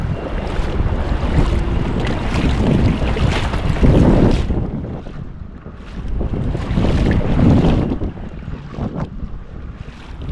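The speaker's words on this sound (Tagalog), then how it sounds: "Alon pala, malakas ang alon." Strong waves and current churn around a small boat at sea during high tide, with loud wind buffeting the microphone and water rushing in surging swells that rise and fall without talk.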